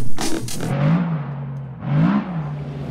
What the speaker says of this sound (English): Once again, all the engines are started.